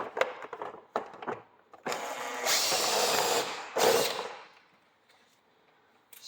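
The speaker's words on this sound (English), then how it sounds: "I can do the pre-drill on each side." A cordless power drill pre-drills holes for a vertical blind bracket, two short bursts of whirring separated by a pause, preceded by faint handling clicks, close and fairly quiet.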